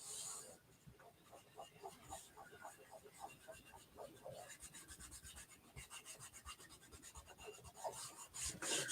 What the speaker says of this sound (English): So I'm just going to burnish it down really well.